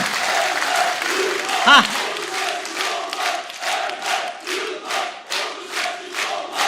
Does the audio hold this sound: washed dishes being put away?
no